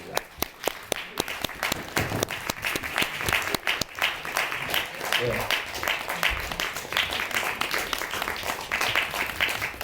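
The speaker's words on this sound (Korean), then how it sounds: "뜨거운 박수로 맞이해 주시면 고맙겠습니다." An audience at a library talk for the omnibus film Don't Worry claps to welcome two actors and two directors, starting with a few sharp separate claps that swell into full, sustained applause.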